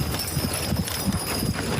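Horses' hooves clip-clop in a steady, uneven rhythm as they perform at a show before a crowd, with a continuous background hum beneath the hoofbeats.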